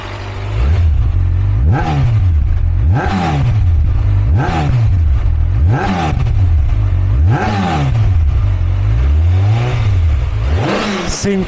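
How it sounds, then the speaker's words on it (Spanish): A ZX6R four-cylinder motorcycle engine, started after five years sitting abandoned, is revved hard over and over. About eight loud, close rising-and-falling throttle blips repeat in a steady rhythm, with no voices. "Así que ahora vamos a echar a andar."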